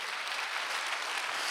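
Congregation clapping during a Sunday church service, an even, continuous wash of hands applauding, moderately loud and close, with no voices over it.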